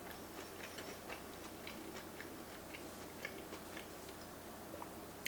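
Soft, close crunching of someone chewing crisp grilled cheese, with repeated small crackly bites over a quiet background.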